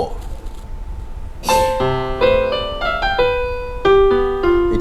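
Electronic keyboard notes captured through a line-audio output, playing clear sustained tones in a short melodic phrase after a quiet start, loud and close with no talking.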